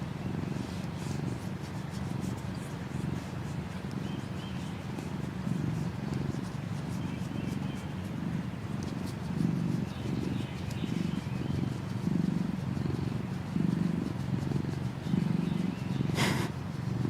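A house cat purrs steadily and close up for a long stretch while getting its head scratched, a low rhythmic rumble with faint bird chirps in the background.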